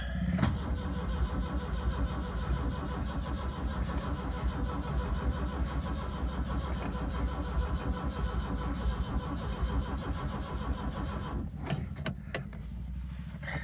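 A Mk.2 Ford Escort RS2000 that has stood unused cranks over and over without catching, a steady loud churning starter whine that continues until it stops near the end, followed by a few clicks.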